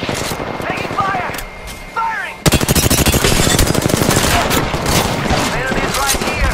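Rapid automatic gunfire in the Apex Legends video game bursts in loud and dense after a brief lull, a sustained rattling stream of shots with game voice callouts and other effects layered over it.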